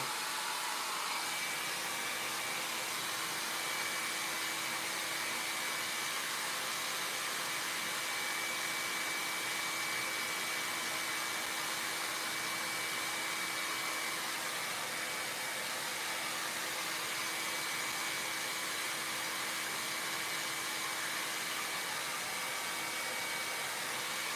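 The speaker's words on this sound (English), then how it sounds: "Always turn your hairdryer on, like Gary Lowe said in one of his demos, away from work." A hairdryer blows hard and steady for the whole stretch, drying a coat of finish on a wooden cake stand, a close, unbroken rush of air with a faint motor whine.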